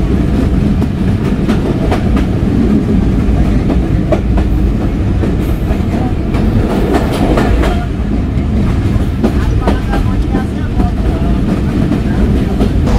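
Banglabandha Express intercity train rolling slowly over the rails in older coaches, a steady loud rumble with faint clickety-clack beats running throughout.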